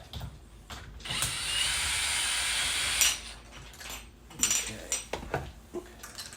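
Mounting screws are unscrewed from a keyless keypad entry deadbolt on a door, with close metallic scraping, a sustained grinding turn and several clinks and taps of small hardware.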